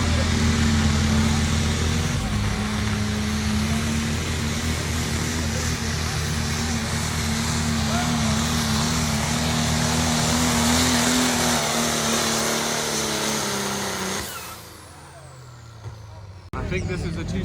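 A factory 6-liter pulling truck engine idles and rumbles at an outlaw-class truck pull at a Tennessee county fairground, a loud, steady low drone that holds for about fourteen seconds before dropping away.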